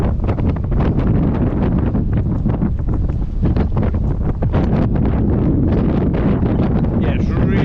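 Strong gusty wind buffets the microphone at the River Spey during February salmon fishing, a loud continuous low roar through the whole stretch, with brief speech near the end.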